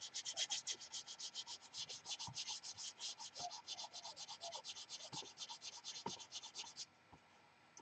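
Sanding a painted surface by hand: quiet, rapid back-and-forth rasping strokes in a steady rhythm, close up, stopping shortly before the end.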